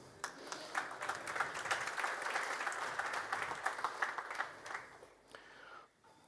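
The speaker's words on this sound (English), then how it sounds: "Applause for Expo, please." Audience applause at a tech talk on augmented reality with React Native, a steady wash of many hands clapping from a moderate distance, fading out near the end.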